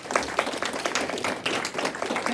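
Steady applause from an audience at a 2021 candidate debate in American Fork, a dense, even patter of many hands clapping for a couple of seconds, moderately near.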